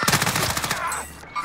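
Rapid automatic gunfire in a shooter video game, a close burst of about a dozen evenly spaced shots that stops abruptly, leaving a brief quieter tail.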